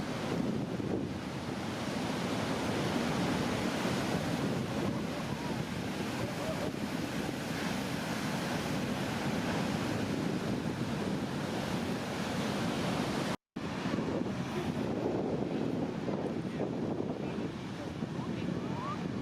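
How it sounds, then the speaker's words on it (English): Big ocean waves breaking at a heavy surf break, a steady loud roar of surf and wind noise that persists throughout with a brief dropout near the end. "That's a big wave."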